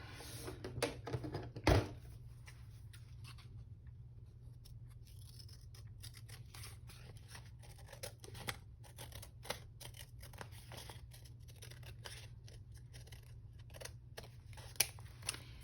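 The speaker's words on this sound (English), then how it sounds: "Now I gotta cut this part away." Scissors cutting away part of a gothic vampire-and-roses junk journal page, quiet close snips in a loose, irregular rhythm over a low background hum, with no talking.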